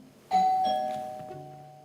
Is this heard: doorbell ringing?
yes